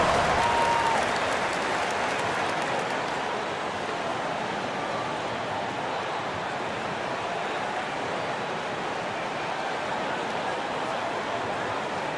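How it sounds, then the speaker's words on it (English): Applause from a crowd at an SFL basketball game between the Suns and Hornets fills the space as a steady, dense wash of clapping, loudest at the start and then holding evenly. "Give yourself a round of applause"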